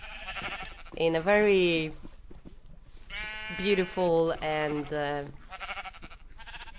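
Sheep on a Minecraft sheep farm bleat several times in wavering, nasal cries, loud and close, with a person talking briefly between the bleats.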